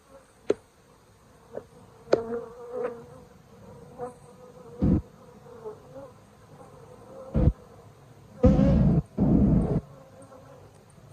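Honeybees from a nuc buzz during installation. Scattered short buzzes pass close by, and a few louder, longer bursts come near the end over a quiet background.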